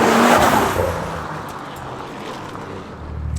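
BMW N54 car fitted with a CES Motorsport bottom mount turbo kit roars loudly as it passes close by, then fades into the distance over a low rumble.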